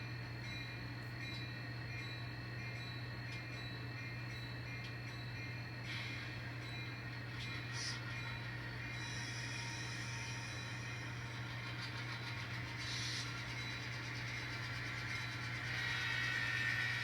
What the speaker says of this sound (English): now let's get this train going here